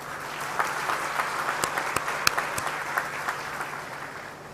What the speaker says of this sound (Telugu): వాళ్ళ కోసం ఒక మారు అందరూ చప్పట్లు కొట్టండి